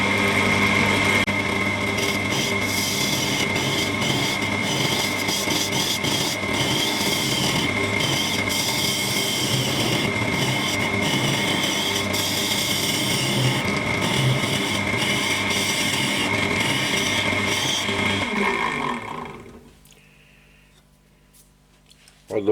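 A wooden vase hollowed on a lathe with a hollowing rig: a steady, loud whirring of the spinning lathe with a continuous scraping cut running throughout, then fading to near silence at the end as the tool stops.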